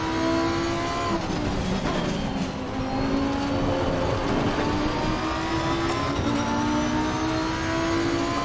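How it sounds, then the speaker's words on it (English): An Audi race car in Assetto Corsa Competizione at Brands Hatch drones steadily and loudly throughout, its engine pitch sliding down under braking and climbing again through the gears, with a brief hint of tyre squeal. "The sound of this car."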